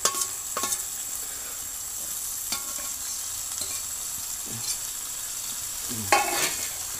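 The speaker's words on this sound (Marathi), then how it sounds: "आता आपण ढवळून घेऊ पटकन." A spoon stirs cooking tomatoes in a pan for brinjal bharit, giving soft sizzling and a few scattered scrapes and clinks against the metal, fairly quiet.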